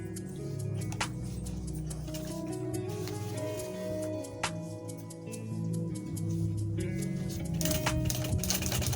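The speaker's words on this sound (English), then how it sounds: "So I'll do the sewing from this side to this side." A sewing machine stitches a double zip flap bag, running in a steady mechanical whir with ticking clicks at intervals, close up and continuous, with no voices over it.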